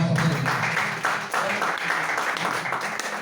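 Applause rises from the audience at a calendar publication ceremony to honour the publishing team, dense clapping that holds steady and then slowly thins.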